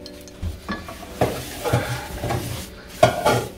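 Chocolate cake batter cooking in oil in a pan like pancakes, with scattered scrapes and clinks of a utensil against the pan over a soft sizzle, several sharper knocks standing out.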